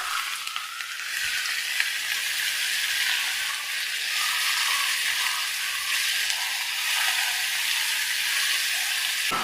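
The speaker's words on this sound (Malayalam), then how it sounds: "ആവശ്യത്തിനുള്ള ഉപ്പും കൂടെ ചേർത്ത് നല്ല പോലെ ഒന്ന് വഴറ്റിയെടുക്കാം." Chopped onions with salt sauté in a pan, giving a steady, close, continuous sizzling hiss with faint occasional stirring and no talk.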